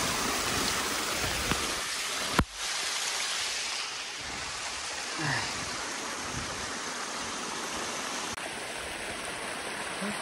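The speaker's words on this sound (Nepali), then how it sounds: "हरामै पानी परेको छ।" Heavy rain with water running along a mountain hiking trail in Snowdonia, a steady hiss and trickle throughout with a sharp knock early on, no talk.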